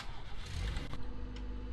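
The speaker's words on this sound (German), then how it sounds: "Motor." A vehicle engine in the video game Contraband Police, a steady mid-pitched running rumble with a brief rev, heard alone for a couple of seconds.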